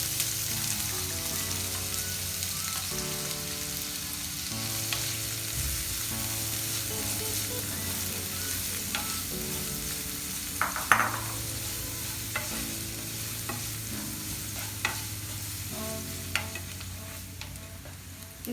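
Chopped onion fries in a pan for Kerala-style chicken kondattam, a steady close sizzle with occasional stirring clicks and scrapes, and no voices.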